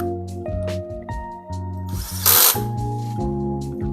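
A small power driver whirs in several short bursts while tightening a wire terminal screw on a float switch, with one louder, harsher burst in the middle.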